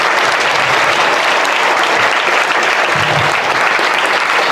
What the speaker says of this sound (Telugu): వాళ్ళందరికీ కూడా ఒకసారి క్లాప్స్ కొట్టాలి టీచర్స్ అందరూ.